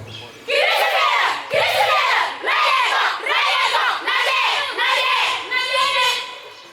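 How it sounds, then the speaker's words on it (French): A live crowd at an outdoor Passion play shouts together in repeated loud bursts, several rising yells with brief pauses between them, close and energetic. "Mais ils crièrent encore plus fort"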